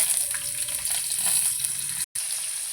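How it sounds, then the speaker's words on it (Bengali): Chopped onion frying in hot oil with dried red chillies, bay leaf and panch phoron, a loud continuous bright sizzle that cuts out briefly near the end. "পেঁয়াজটা ভালো করে ভেজে নেব।"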